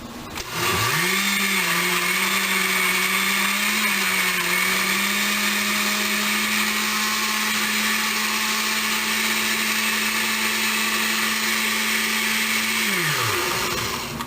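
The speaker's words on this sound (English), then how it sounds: "I got an Oster 14 speed blender, and there's actually a smoothie setting on this" An Oster 14-speed blender runs on its smoothie setting, a loud steady whirring drone that spins up, holds evenly for about twelve seconds, then winds down, with no voices.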